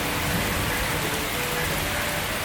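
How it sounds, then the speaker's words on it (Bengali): Heavy rain pours down in the first downpour of the year, a dense, steady roar of drops on surfaces that stays loud and constant throughout. "একদম মুষলধারে হচ্ছে বৃষ্টি"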